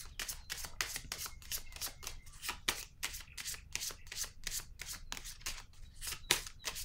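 Tarot cards are shuffled and drawn by hand, giving a steady series of crisp, close riffling snaps and soft paper slides, with a short pause near the end.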